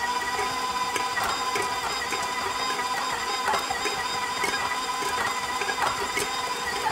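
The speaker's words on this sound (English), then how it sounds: "I'm going to put it in the mixer. And with a paddle attachment, I'm going to let the mixer break up this paste for me" A stand mixer with a paddle attachment breaks up almond paste, producing a steady, close mechanical whir with a whining motor tone and a regular, rapid clatter throughout.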